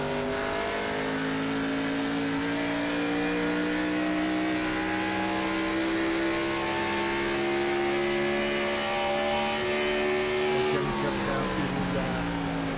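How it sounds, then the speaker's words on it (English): A race car in the iRacing sim runs at speed on an oval raceway, its steady engine whine climbing through a long gear, then dropping sharply as it downshifts, with voices talking over it. "you hear him downshifting there, down through the wider, slower part of the racetrack"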